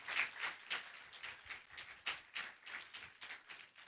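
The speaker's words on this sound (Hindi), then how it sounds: "क्यों ना ताली बजा के इस बच्चे को प्रोत्साहित करने पाए" A church congregation claps to encourage a child, a quiet, scattered patter of hands continuing steadily without voices.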